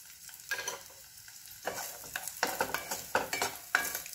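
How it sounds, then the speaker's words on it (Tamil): Coconut, black pepper and cumin dry-roasting in a pan for a village-style dry fish curry, giving a series of scraping stirs and light crackles with soft sizzling between them, close and steady with no talk. "சீரகம் இந்த மூணையுமே நம்ம வறுத்து தான் அரைக்க போகிறோம்."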